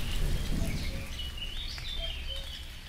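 Steady rain falling at Lake Tisza in a very wet May, a constant soft hiss of drops with faint bird chirps and calls over it outdoors.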